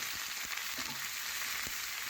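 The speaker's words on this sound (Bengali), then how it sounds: "এখন কেটে রাখা সবজি এক এক করে সমস্ত সবজি ঢেলে" Chopped vegetables fry in a pan with already-fried onions, giving a steady, fairly quiet hiss and sizzle with a few soft stirring knocks.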